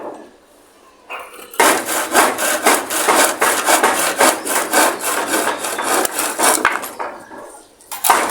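A saw cuts through a long sloped wooden stair stringer on a construction site in steady, rapid back-and-forth strokes, loud and close, with no talking.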